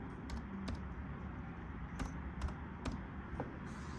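Sparse keystrokes on a computer keyboard, a handful of light clicks spaced irregularly over a steady low background hum, fairly faint and with no talking.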